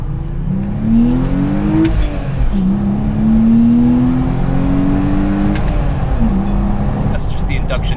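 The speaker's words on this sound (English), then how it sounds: "That's just the induction noise." A BMW E30 pulls hard on the road, its engine induction noise rising in pitch through two long accelerating sweeps, loud and steady inside the car with a brief dip between gears.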